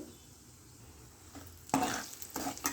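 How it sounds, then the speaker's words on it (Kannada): Spices with chili powder and salt fry in hot oil for hotel-style dal fry, a quiet steady sizzle that grows louder as stirring begins, with a few sharp stirring scrapes near the end. "ಅಚ್ಚ ಖಾರದ ಪುಡಿ, ರುಚಿಗೆ ತಕ್ಕಷ್ಟು ಉಪ್ಪು ಹಾಕಿ ಚಲೋ ಫ್ರೈ ಮಾಡ್ಕೋಬೇಕು"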